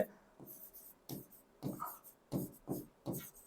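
Someone writes on a classroom board in short rhythmic scratchy strokes, about seven quick bursts close by and quiet, with no talking in between.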